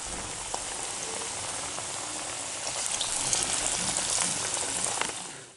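Egg pakoda fries in hot oil with a dense, close, rain-like sizzle that holds steady and grows slightly louder midway before fading out.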